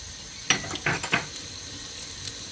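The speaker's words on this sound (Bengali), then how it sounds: "হলুদ গুঁড়ো অল্প পরিমাণ দিয়ে মিক্সড করে আলুগুলো আমি ভালোভাবে ভেজে নেব" Potatoes with salt and turmeric frying in a pan, a low steady sizzle with a few short clattering stirs and scrapes near the start, then settling back to quiet frying.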